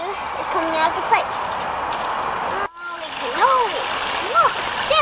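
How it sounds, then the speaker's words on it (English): Water runs and splashes from a newly working drip irrigation pipe in a backyard garden, a steady close wash of flow while people talk over it throughout, with a brief dip partway. "now water is coming out of the pipe"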